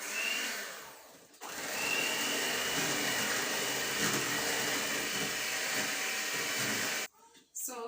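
A steady electric mixer whirs loudly and close as it beats vanilla cake batter, running for about six seconds before cutting off, with brief talk at the start and end.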